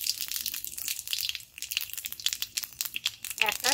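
Panch phoron spices sizzling and crackling in hot mustard oil, a dense, steady spitting hiss with scattered sharp pops, close and continuous for a few seconds, no talking over it.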